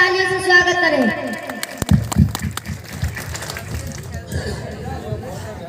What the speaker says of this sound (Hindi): इसीलिए सब जनता को तालियों से स्वागत करें